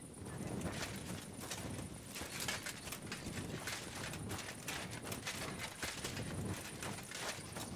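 Horse hooves clip-clop steadily through a dense, close mix of game sound in Kingdom Come Deliverance 2, the rhythmic footfalls of a walking horse blending with rustling and clatter, fairly quiet overall with no clear talk.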